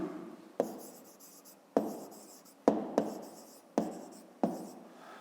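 A pen writes on paper in several quick strokes, each starting with a sharp scratch that fades, repeated about six times close up with no voices.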